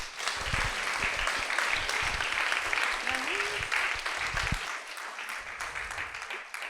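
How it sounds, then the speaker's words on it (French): An in-person audience at a French-language afternoon professional event applauds with dense, steady clapping that swells briefly, then thins and fades toward the end. "Je pense qu'on peut les applaudir."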